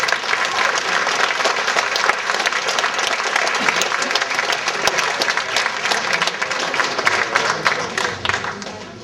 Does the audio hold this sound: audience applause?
yes